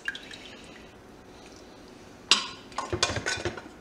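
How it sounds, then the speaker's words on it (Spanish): Cooked beef being lifted out of its cooking water in a kitchen, a quiet stretch followed by a sudden splash and a quick run of drips and trickles falling back into the pot, close and clear. "la voy a sacar del agua para desmeluzarla"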